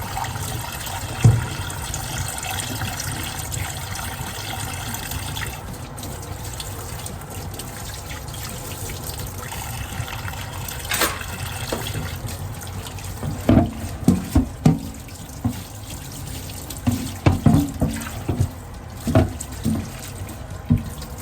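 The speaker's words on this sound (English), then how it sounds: "And let me wash this cutting board while I'm at it." Tap water runs steadily into a sink while a cutting board is rinsed and scrubbed; the water is heard alone throughout, with bumps and knocks of the board growing more frequent toward the end.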